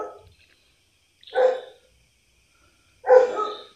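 Dog barking outdoors, two separate loud sharp barks with quiet gaps between them.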